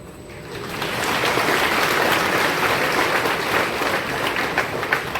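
An audience at a religious discourse at Akshar Mandir in Gondal breaks into loud, sustained clapping that swells within the first second and then holds steady.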